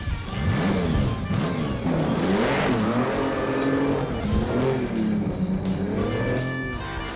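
A Sand Rail off-road vehicle engine revs loud and close, its pitch rising and falling through several throttle swells in a continuous mechanical roar.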